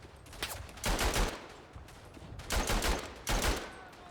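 Machine gun fire in the World War I shooter Verdun: three loud, rapid bursts of automatic fire, each lasting about half a second, separated by brief pauses.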